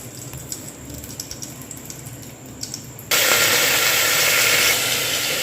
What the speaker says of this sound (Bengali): আর এই হচ্ছে কালো জিরে আর কাঁচা লঙ্কা ফোড়ন দিয়েছি